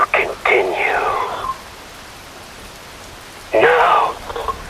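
Rain falls steadily in Metal Gear Rising: Revengeance, a soft continuous patter beneath the scene, with someone speaking over it at the start and again near the end.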